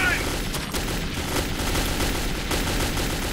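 Gunfire in the video game Metro 2033, a dense continuous barrage of shots filling the whole stretch at steady loudness, with a voice shouting over it.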